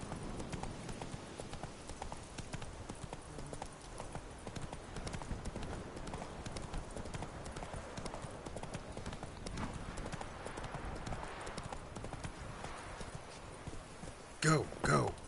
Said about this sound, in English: That's it, Roach. Slow now. Guess I can't do that. Giddy up.